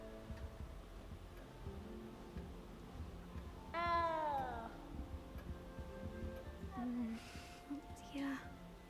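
A cat meows once in the Hogwarts Legacy video game, a short, clear, rising-and-falling cry over a quiet game soundtrack, followed by a few faint, softer chirps.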